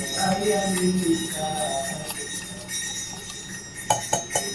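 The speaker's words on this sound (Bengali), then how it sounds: "এখন ভালো করে মিশিয়ে নেব দুধ চিনি আর ক্রিম" A spoon stirs milk, sugar and cream together in a bowl, giving light clinks and scrapes against the dish, with sharper taps toward the end.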